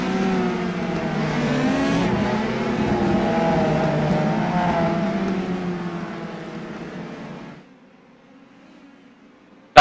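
Open-wheel race cars howl around the Rudskogen circuit in iRacing, a sustained high engine whine with shifting pitch that fades away toward the end.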